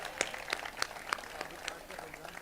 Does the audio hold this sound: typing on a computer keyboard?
no